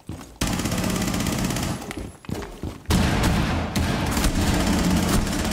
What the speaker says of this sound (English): I'm shooting it like it has an LMG mag.